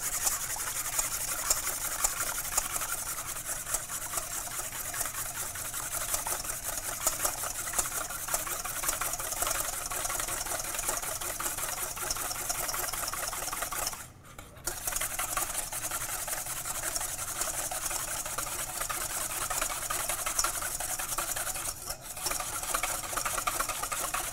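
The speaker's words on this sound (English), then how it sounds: "using a clean whisk, I'm going to whisk my egg whites" Egg whites are whisked briskly with a clean whisk in a bowl, producing a continuous fast scratchy rattle at close range that pauses briefly once midway, with no voices.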